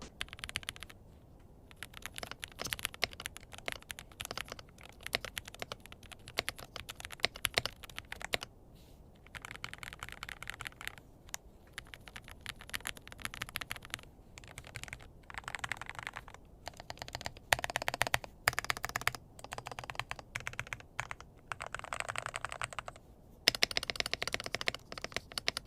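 Rapid, steady typing on a Whitefox Eclipse mechanical keyboard with crisp clicky keystrokes, close up, in bursts with brief pauses, and no talking.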